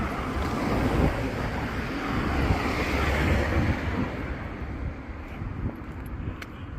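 Steady wind roars across an open microphone, with a broad rushing wash like surf underneath, continuous and fairly loud throughout.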